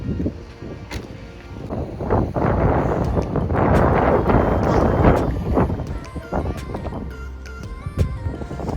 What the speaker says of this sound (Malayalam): ഭയങ്കര തണുപ്പ്, നല്ല കാറ്റുള്ളതുകൊണ്ട്.